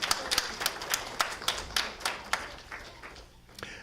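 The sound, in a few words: congregation applause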